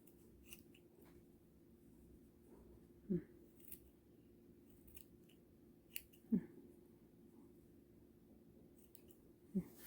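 Scissors snip through crochet yarn to trim a tassel, a few quiet isolated cuts spaced a few seconds apart over a soft background hum.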